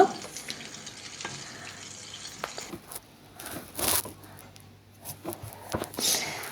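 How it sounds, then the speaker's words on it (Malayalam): Crispy tea-time snack pieces frying in oil in a pan, a quiet steady sizzle broken by intermittent scraping and clinking as they are stirred and turned, close up. "എല്ലാ വശവും നന്നായിട്ടൊന്ന് നന്നായിട്ട് മുരിഞ്ഞ് കിട്ടണം അത് ഇടയ്ക്കിടയ്ക്ക് ഇളക്കിയിട്ട് കൊടുക്കുക"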